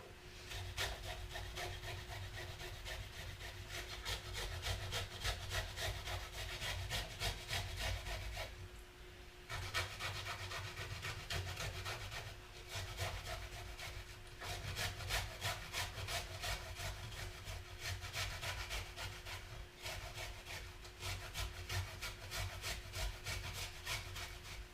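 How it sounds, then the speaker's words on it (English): Fresh ginger rubbed against a kitchen grater in quick, even rasping strokes, a steady close scraping rhythm broken by two brief pauses. "And there you have it, you've got your grated ginger."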